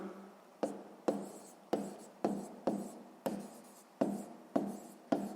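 Handwriting on paper while working a sixth-grade maths exercise, a regular series of about ten quick pen strokes, each a short scratchy burst that fades, close and quiet.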